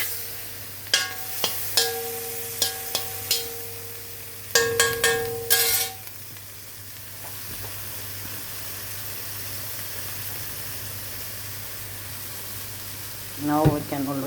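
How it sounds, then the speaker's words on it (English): Chicken liver chopsuey is stirred in a frying pan: a run of sharp utensil clinks and scrapes over the first six seconds, then a quiet, steady hiss with one last clatter near the end. "Mix it thoroughly."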